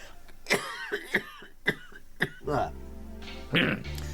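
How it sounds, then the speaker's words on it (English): A man coughs in a quick run of sharp, close bursts, some doubled, then clears his throat and starts talking. "I got a cough."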